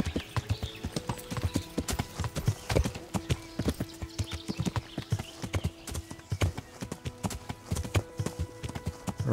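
Horse hooves clip-clopping at a steady trotting rhythm while riding in the video game Kingdom Come: Deliverance, close and moderately loud, continuous throughout with no talking.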